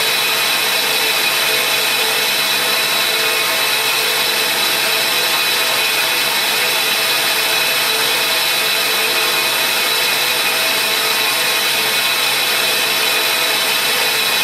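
Hard metal grinding as burrs come off a countersink shank while short sparks fly: a loud, steady, unbroken abrasive hiss and whine that holds for the whole stretch with no voices.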